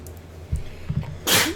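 A single sharp sneeze bursts out near the end, close and fairly loud, during a tabletop Dungeons & Dragons game session, with quiet table noise and faint movement before it.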